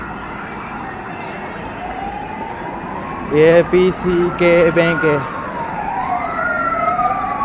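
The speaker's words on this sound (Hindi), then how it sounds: "ये देखो एम्बुलेंस जा रही है, पता नहीं कोई इमरजेंसी है जो इतनी रफ्तार से जा रही हैं" Ambulance siren wailing past on a street in Bishkek, Kyrgyzstan, rising and falling over steady traffic noise, loud and close, with someone talking briefly in the middle.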